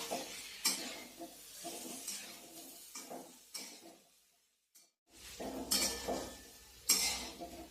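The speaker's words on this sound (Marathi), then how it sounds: "आता आपण बटाट्यामध्ये कोथिंबीर टाकूया, कोथिंबीर आपल्याला आता छान मिक्स करायची आहे।" Coriander being stirred into a boiled potato and pea bhaji in a pan: a spoon scrapes and clinks against the metal in uneven bursts, close and moderately loud, with a short quiet gap midway and no talking.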